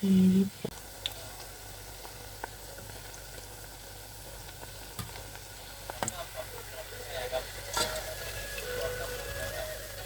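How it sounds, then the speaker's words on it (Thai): Small freshwater shrimp cakes frying in oil, a continuous soft bubbling sizzle with occasional sharp pops and clicks, fairly quiet, with a brief louder knock at the start. "แล้วมิงจะทอดต่อไปให้เสร็จ"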